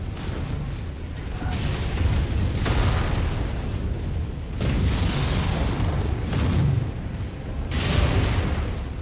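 Missile blasts in MechWarrior 5 combat, a series of loud, booming explosions with rumbling low end, several bursts swelling and fading over a continuous roar of battle.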